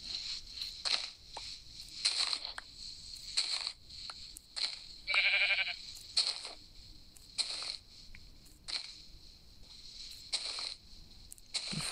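Minecraft sheep bleat in a blocky video-game world, a few faint short bleats scattered among soft clicking and footstep-like game sounds, no voices.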